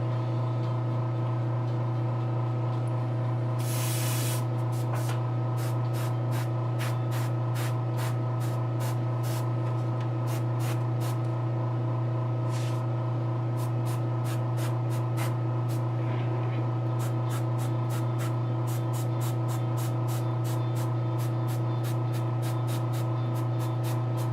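An airbrush sprays paint from its cup in a few short hissing bursts over a steady mechanical hum, with faint repeated ticking throughout.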